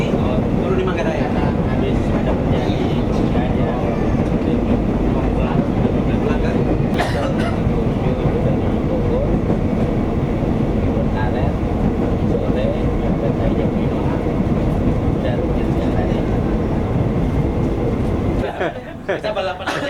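A KRL commuter train rolls from Gambir toward Depok with a continuous loud rumble and rattle, heard from inside the carriage, a few sharp clanks breaking through and a quick drop near the end, with voices running underneath.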